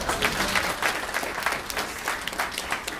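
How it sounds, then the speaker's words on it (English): An audience at a skills seminar gives a round of applause, dense steady clapping filling the room for a few seconds, with no one speaking over it. "Give yourself a round of applause."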